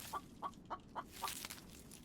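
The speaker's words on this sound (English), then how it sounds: "And I was looking for that chicken." Repeated short clucks from a chicken in The Infected video game, five evenly spaced calls at moderate distance over a steady background hum.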